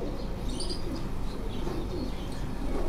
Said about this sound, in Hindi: ये ज़रा करीज में है ये कबूतर